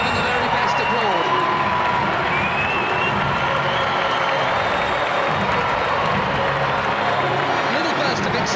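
A football stadium crowd applauds during a World Cup match between Portugal and Nigeria, a loud, unbroken roar of clapping and cheering from thousands of fans, with a commentator's voice running over it.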